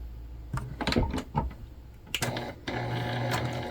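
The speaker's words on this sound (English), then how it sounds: "And we're just stitching right over those lines here." A sewing machine stitches quilting lines across a cotton key fob wallet in short bursts, pausing between runs of rapid mechanical chatter before a longer continuous run at the end.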